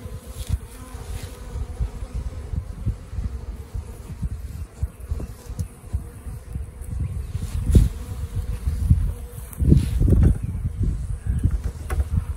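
A honeybee colony at Sourwood Acres hums steadily during an open hive inspection, a dense low buzz of many bees that swells louder toward the end.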